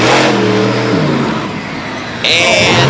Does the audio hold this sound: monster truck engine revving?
yes